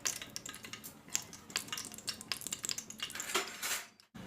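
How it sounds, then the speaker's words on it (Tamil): Fenugreek seeds frying in ghee in a pot, with cinnamon and cardamom, for Ramadan nombu kanji: quiet sizzling under repeated metallic clinks and scrapes of a utensil against the pot, ending abruptly. "வெந்தயம் நல்லா பொரிஞ்சிருச்சு."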